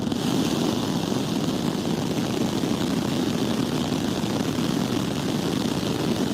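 Starship Raptor 3 rocket engines firing on a test stand, a loud, steady, broadband roar that holds without a break and sounds fairly distant.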